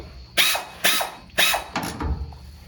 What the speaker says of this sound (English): I'll break all these loose and then we'll do the air ratchet